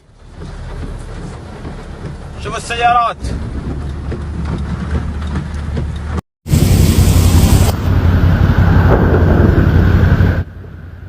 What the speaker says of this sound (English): videos showing heavy rains in Makkah al-Mukarramah on the evening of Monday, August 21st, 2023